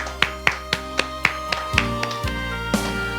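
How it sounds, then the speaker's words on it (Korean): A congregation at a Friday worship service claps in a quick, regular rhythm, with sharp, evenly spaced claps that fade as a held organ or keyboard chord rings underneath and shifts pitch. "우리 하나님께 영광의 박수 올리겠습니다"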